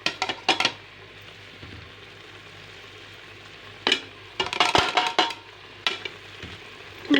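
Spices frying in oil in a pot for tinda gosht, a constant sizzle broken by sharp bursts of stirring and scraping against the metal, close and fairly loud with no talk.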